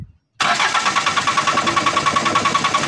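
An Isuzu 4BE1 diesel engine, just after injection pump timing work, cranks with a steady rhythmic chugging pulse that begins abruptly after a short silence, loud and close, with no voices.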